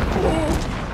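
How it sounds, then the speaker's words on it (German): A thrown explosive goes off close behind the player in the video game Hunt: Showdown, giving a single deep, dense boom that fills the whole second. "Ganz knapp hinter mir explodiert."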